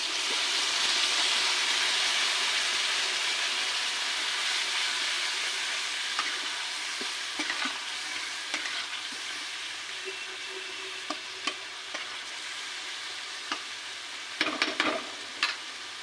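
Spice paste sizzling in a pan with fried potatoes for a small-hilsa curry, a steady broadband frying hiss throughout with scattered scraping stir clicks, a cluster of sharper utensil knocks near the end.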